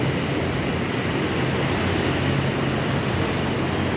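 A steady, loud rumbling roar of an MRT metro train passing close by, continuous with no breaks.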